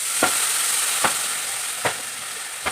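Gobindobhog rice being stirred in a pan with a fish head for murighonto, a steady hiss of frying with four distinct scraping strokes of the spoon spaced about a second apart.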